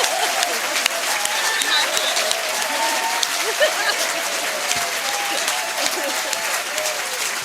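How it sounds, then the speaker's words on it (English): Audience applause at the Communities in Control Conference 2008 after a debate, sustained, loud clapping from a sizeable crowd with a faint murmur of voices underneath. "Please applaud."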